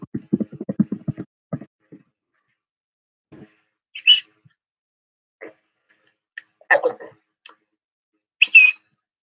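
A brief burst of voice comes first. Then a person whistles short, scattered bird-like tweets and chirps, imitating birdsong, with quiet gaps between them.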